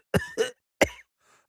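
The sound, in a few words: cough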